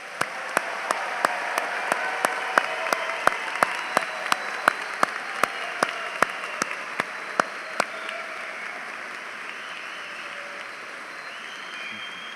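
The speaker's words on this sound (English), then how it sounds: "Let's give them one more round of applause." A ceremony audience gives graduating University of Pittsburgh SHRS students a loud, sustained round of applause, with sharp individual claps standing out before the clapping gradually fades away.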